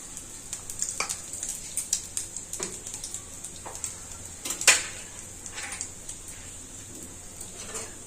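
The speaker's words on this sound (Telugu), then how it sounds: "చట్నీకి పోపు పెట్టేస్తాను." Spices and asafoetida tempering in hot oil for coconut chutney, a soft steady sizzle with faint clinks and stirring taps of a utensil against the pan, quiet and close with no talking.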